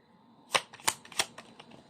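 Tarot cards are shuffled in a few sharp, crisp riffling bursts spaced about a third of a second apart, close and fairly loud, with softer card rustles trailing between them and no talking.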